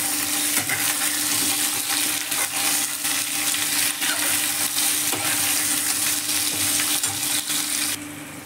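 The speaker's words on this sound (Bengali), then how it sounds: "এখানে লম্বা লম্বা করে কেটে রাখা পেঁয়াজগুলো এর মধ্যে দিয়ে ভালো করে ভেজে নেব" Potatoes and long-sliced onions fry in a pan with oil, giving a loud, steady, dense sizzle and crackle with no speech, easing slightly in the last half second.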